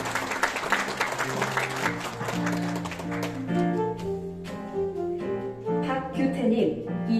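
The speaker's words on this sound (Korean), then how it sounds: "큰 박수 부탁드리겠습니다." Clapping at a Korean award ceremony, a moderate crowd applauding steadily while music plays along and grows more prominent as the clapping continues.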